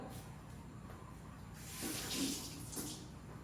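Items being washed under a running kitchen tap before setting yogurt, a steady soft hiss of flowing water that swells briefly as the items pass under the stream, faint and continuous.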